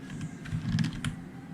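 Keys clatter on a computer keyboard in a short burst of quick, close taps, entering a name while working on a Flutter project, with no talking.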